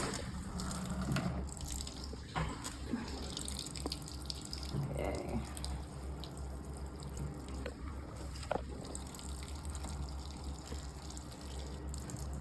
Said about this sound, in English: So it will wash and rinse and spin for 57 minutes, right?